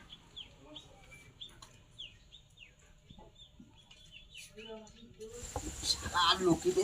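Chickens clucking and chirping inside a crowded room: scattered close calls over a murmuring background, with people talking and rising noise toward the end.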